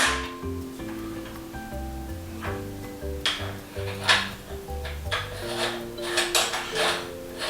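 Metal parts of a moka pot being screwed together by hand in a kitchen, giving close scraping and clinking metallic contacts in irregular bursts, with faint background music and no talk.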